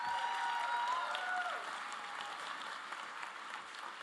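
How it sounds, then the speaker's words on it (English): Sustained applause at a college commencement, a dense, even roar of many clapping hands from a large crowd, with a few thin whistles rising over it early on. "Give them a round of applause"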